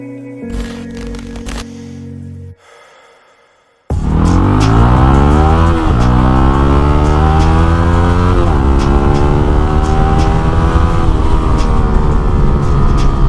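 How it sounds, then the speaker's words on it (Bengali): A Yamaha R15 motorcycle fitted with an aftermarket exhaust is ridden, loud and close, holding a steady buzzing engine note with shifting pitch as it accelerates. A different, brief sound comes first, then a short quiet gap before the engine. "আজকে আমি রাইড করতেছি খুবই বিউটিফুল একটা R15, খুবই বিউটিফুল সাউন্ডিং একটা এক্সস্টের সাথে।"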